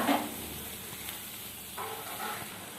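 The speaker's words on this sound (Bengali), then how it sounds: "পেস্ট করে রাখা মশলা আমি সব দিয়ে দিলাম, ভালো করে ভেজে নেব।" Vegetables and a ground spice paste fry in a pan while being stirred, a soft continuous sizzle with faint scraping, close but fairly quiet, rising slightly toward the end.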